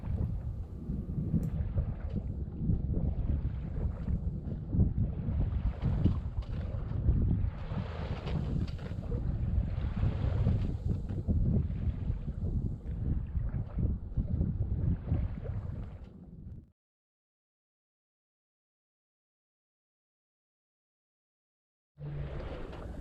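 Wave Rover, a sailboat, glides at 3.5 to 4 knots on a calm sea after the winds ease: a steady rush of water and wind along the hull for about sixteen seconds, then silence, then it returns.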